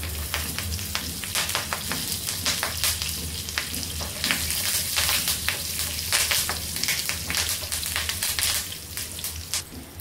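Curry leaves and cumin seeds crackle and spit in hot oil, a steady dense sizzle with scattered sharp pops that continues close and even for the full length.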